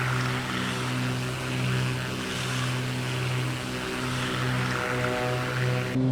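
Propeller airplane in flight in Microsoft Flight Simulator 2024, a steady droning engine hum with strong low harmonic tones that hold level and continuous for the whole stretch, with no voices.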